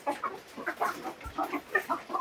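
Chickens on a backyard poultry farm of about a thousand birds cluck in quick, overlapping bursts, a soft steady chatter of several hens fairly close with one low thump partway through.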